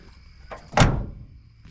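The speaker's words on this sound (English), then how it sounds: "Doors shut really nice." An old barn-find car's door shutting, a single solid close thunk with a brief lighter click just before it, outdoors with faint insect chirping behind.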